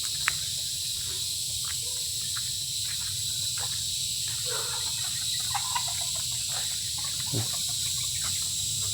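A continuous high cicada drone rings steadily through a quiet forest monastery, with faint scattered ticks and distant bird calls beneath it.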